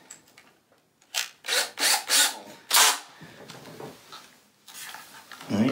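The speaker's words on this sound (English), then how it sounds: "probably like a 5/64 drill bit, 5/64 inch drill bit, just to get it started." Short bursts of a small power drill with a 5/64 inch bit drilling into plastic, several starts and stops close by, with brief grinding between them.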